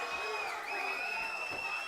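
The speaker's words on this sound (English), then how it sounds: "And you can hear this crowd cheer after that sweep" At an MMA fight, a live crowd cheers and roars in a short, steady wash of noise.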